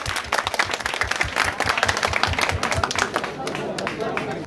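An audience at a quiz competition claps loudly and continuously, dense applause with a voice speaking over it.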